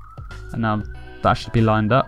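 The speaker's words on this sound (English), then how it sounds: "Sorry if you can hear that police car in the background." A steady police car siren wail carries in the background, holding a long high tone beneath a voice talking in short bursts.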